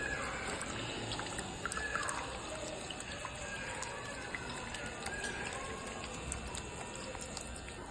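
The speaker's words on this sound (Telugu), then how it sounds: "మోటార్ ద్వారా నీళ్లు పైకి వచ్చి మూతల మీద పడితే మోటార్ తిరిగి లైట్ వెలుగుతుంది" Water pumped up through pipes falls onto plastic bottle caps, turning a small motor in a waste-bottle water power project, giving a steady close trickling and splashing patter that runs without pause.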